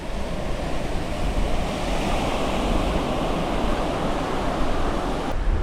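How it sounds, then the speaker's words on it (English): Surf breaking steadily on Blue Flag Beach in Diu, India, as the sea turns rougher; a continuous broadband wash of waves with some wind rumble, close and fairly loud throughout, with no voices. "You can see the waves getting a bit more rougher."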